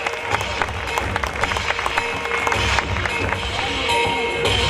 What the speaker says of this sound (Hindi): जोरदार तालियां बजती रहनी चाहिए प्लीज।